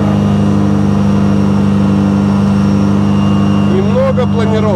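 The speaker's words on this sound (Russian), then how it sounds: "Работа мотора не для того, чтобы высоты набрать, а именно чтобы запись осталась" A motor glider's engine drones steadily in flight, a loud continuous mid-pitched hum filling the whole stretch, with a brief higher warbling sound near the end.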